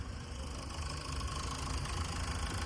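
A steady, low diesel engine rumble from a 2016 Ford EcoSport Titanium idling close by, with a continuous mechanical vibration and no talking.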